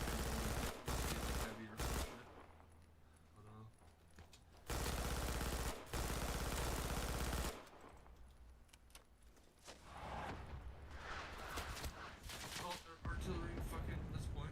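Artillery and gunfire in the World War II shooter Red Orchestra 2, with heavy blasts and bursts of shooting coming in loud waves, some parts quieter, and voices heard among them.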